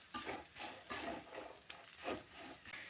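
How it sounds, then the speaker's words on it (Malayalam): Spices such as fenugreek powder and asafoetida are stirred into a gooseberry pickle, making a few soft, rhythmic scraping and mixing strokes, close and quiet, with no talking. "എല്ലാം കൂടി നന്നായിട്ട് മിക്സ് ആക്കണം"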